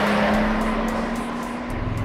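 A 2024 Toyota Sequoia TRD Pro SUV drives on city streets, its engine holding a steady drone with road noise and faint ticking, close and continuous without speech.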